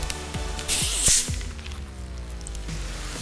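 Mountain Dew pours over fruit and ice with a brief splashing hiss and fizz, close and fairly loud, then settles into quieter dripping and crackling carbonation.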